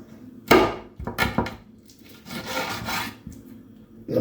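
A kitchen knife slicing chicken breast meat away from the bone, giving several close, short rasping and rubbing strokes with brief pauses between them and a longer drawn cut near the end.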